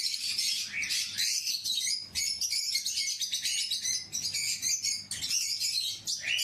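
Pet birds in a home collection chirping and tweeting continuously, several birds calling at once in bright overlapping bursts, close and lively with no talking.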